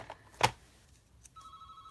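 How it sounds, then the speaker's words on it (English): A telephone rings faintly in another room during a live card-making session: first a brief click, then a steady electronic ring tone that holds to the end. "There goes the phone again."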